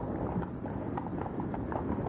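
Hooves of police horses clip-clop over a dense, noisy background, with faint irregular hoof strikes that sound distant and low in level, and no speech.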